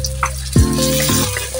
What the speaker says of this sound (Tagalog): Kapag medyo brown na ito, ay isama na nating igisa ang kamatis.